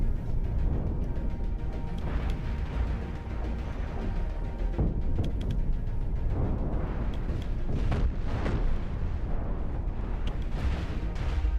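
Cannons firing at a ship in the space combat game Cosmoteer: repeated booming shots and crackling impacts, some louder than others, layered over a constant low rumble at a moderate, irregular pace.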